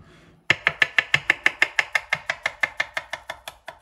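A knife chops rapidly on a cutting board while preparing salmon Wellington, some twenty crisp, evenly spaced strikes, close and loud, fading slightly toward the end, with no voices.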